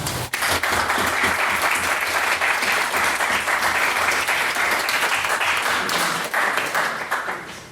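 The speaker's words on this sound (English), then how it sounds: "can we please get an additional round of applause for Miss Armstrong's maiden speech" Sustained, dense audience applause fills a debate hall after a maiden speech, steady and loud from start to finish with only a slight easing at the very end.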